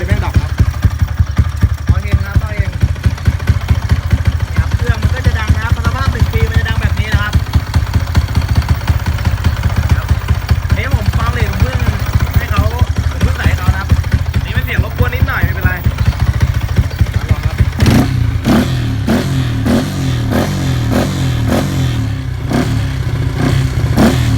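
A 125cc motorcycle engine converted from carburettor to fuel injection runs loud and close with a steady pulsing idle, then shifts to a faster, harder-edged throb near the end, with a voice murmuring underneath.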